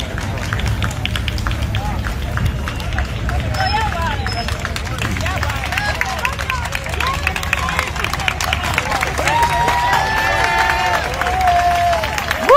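A crowd in Washington, D.C. cheers police officers in the street: continuous, dense outdoor hubbub of cheering and clapping, with scattered whoops and raised voices rising over a constant roar.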